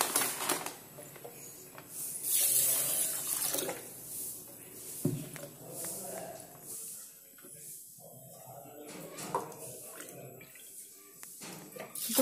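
Basmati rice gets rinsed under running water in a kitchen, with splashing, trickling and dripping that rise and fall, plus faint handling noises.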